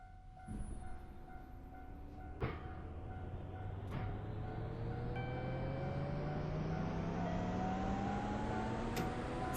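Simulated train or vehicle engine in a driving simulator game, a steady rumble pulling away from a stop with tones rising as it gains speed, running continuously and fairly loud with no talk.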